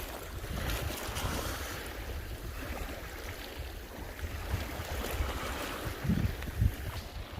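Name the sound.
water of Pangong lake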